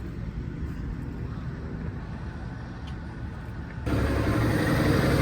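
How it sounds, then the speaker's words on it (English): A white Valtra 285 tractor's steady low engine rumble idles, then jumps abruptly to a louder, rougher exhaust roar as the revs rise and hold, at a demo day. "Just increase this and then listen to the exhaust note."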